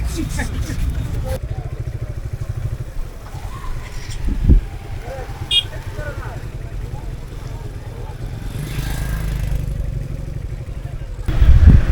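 A motorcycle engine drones steadily at close range while riding at the parliament building grounds, with wind rumble and a person talking over it intermittently.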